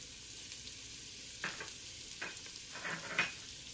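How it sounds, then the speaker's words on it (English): Sausage sizzles in hot grease inside a Ninja Foodi, a steady close hiss with a few louder bursts of crackle and stirring partway through; no one speaks. "I'm going to let it fry like that for just a little bit so it can release its flavor also into the grease."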